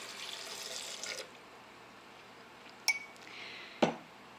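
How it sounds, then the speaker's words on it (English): Water poured from a cup into a bowl of oil-free hummus made from beans, a short splashing pour that fades, followed by a couple of sharp clinks of a cup or utensil against a dish. "Then you're going to add 1 cup of water"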